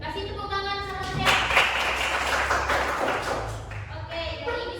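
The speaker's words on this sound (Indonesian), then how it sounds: "kasih tepuk tangan sama saya" A classroom audience gives a burst of applause for a teacher: a few seconds of dense, close clapping that rises suddenly and then fades. Someone speaks before and after it.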